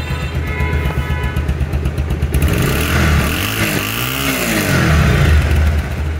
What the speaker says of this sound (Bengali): ফ্রি অ্যাক্সিলারেটর সাউন্ড দেখুন, কোনো রকম আজে বাজে কোনো সাউন্ড নাই